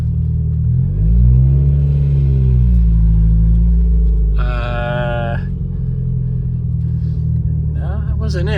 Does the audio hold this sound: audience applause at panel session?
no